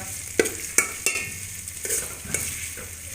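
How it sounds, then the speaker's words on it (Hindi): Potato halwa roasting in ghee, with a few sharp spoon scrapes and stirs against the pan over a steady close sizzle, no voices. "इसको हम लोगों ने अच्छी तरह रोस्ट कर लेना है इसके अंदर, और जो भी घी है वो इसके अंदर बिल्कुल मेल्ट हो जाएगा"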